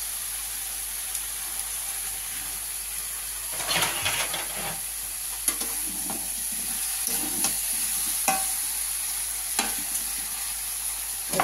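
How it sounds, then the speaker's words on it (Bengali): Curry with four green chilies stir-fried in a pan gives a steady sizzle and hiss, with intermittent scraping strokes of the spoon against the pan and no voices. "এটা এবার কষে কষে রান্না হবে।"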